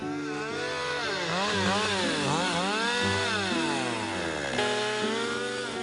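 A chainsaw engine roars continuously while felling trees in a dense forest, its pitch rising and falling as it revs and bites into wood, loud and close with no voices.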